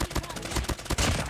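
Gunfire from the Peacekeeper weapon in the mobile video game Call of Duty Mobile, a brief rapid burst of close, loud shots.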